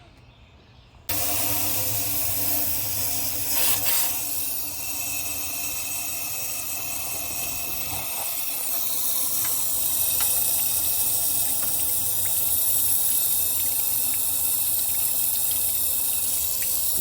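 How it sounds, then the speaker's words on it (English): Degreaser sprays in a continuous hissing stream over the oily engine area of a Ford Bronco, starting abruptly after a quiet second and running steady and close for the rest, with no talking. "I'm gonna spray some degreaser in a few spots"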